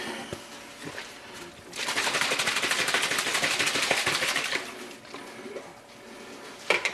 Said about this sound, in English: just enough to make a slurry, and give that a shake.